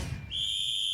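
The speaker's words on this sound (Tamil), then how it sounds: "இன்று பறக்கும் நமது விசில் சத்தம்" A single sharp, shrill whistle rises over a political rally crowd, held steady after a brief burst of crowd noise.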